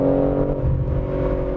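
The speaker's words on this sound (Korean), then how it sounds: "음이 확실히 낮고, 절대, 결코, 뭐, 가볍거나, 약간 경박한 그런 배기 사운드가 아닙니다" Deep, low-pitched exhaust note of a 2023 BMW M3 Touring with the non-hybrid S58 engine, a steady loud drone heard up close with no talking over it.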